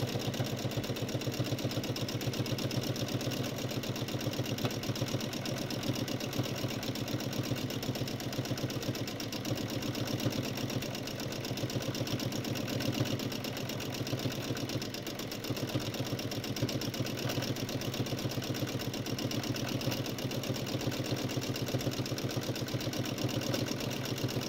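A sewing machine runs steadily through free-motion quilting, stitching small circles, its motor giving a continuous even hum with fast stitch ticks for the whole stretch and no voices.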